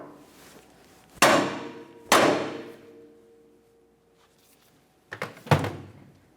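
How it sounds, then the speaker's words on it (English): A hammer strikes a 1994-1997 Honda Accord front steering knuckle a few times, two sharp ringing clangs, a pause, then a quick pair of hits, each with a short metallic decay. "We're going to lightly tap along the knuckle here"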